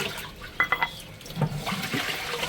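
Water splashing and spilling at an outdoor kitchen sink in a village home, with a few quick drips and clatters followed by uneven close-up sloshing and running water.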